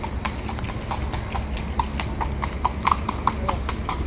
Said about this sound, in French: il va voir le carrosse passer, surtout le cheval en fait.